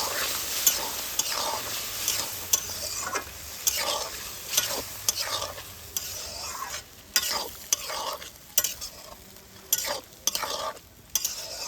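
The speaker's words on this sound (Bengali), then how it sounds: "এবার পোস্তটাকে আমি তেলের মধ্যে দিয়ে দেব। খুব ভালোভাবে মিশিয়ে নিচ্ছি।" Poppy seed paste is stirred through hot oil in a kadai, with repeated close scraping strokes of a spatula over a soft sizzle, in an uneven rhythm and no talking.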